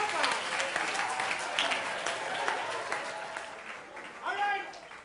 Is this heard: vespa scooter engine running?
no